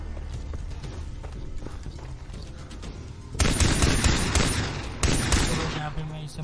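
Gunfire in the Far Cry 3 shooter: after a stretch of softer footsteps and movement, loud rapid bursts of shots break out, then a second burst follows, close and harsh.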